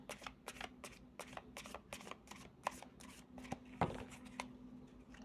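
A deck of cards being shuffled, with a string of close, quick riffling bursts at a steady rhythm and a few sharper snaps, no talk over it.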